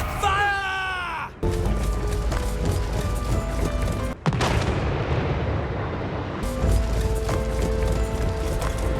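Mortar artillery firing in the battle game Total War Warhammer 3: heavy booming blasts and rumbling impacts in a noisy battlefield mix of clattering and shouting voices.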